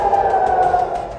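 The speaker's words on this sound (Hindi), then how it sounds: "पूरा जेरूसलम हवाई हमले के सायरनों से गूंज रहा है।" An air raid siren wails across Jerusalem, a loud, steady, high tone that holds evenly and then begins to ease off near the end, with no talk.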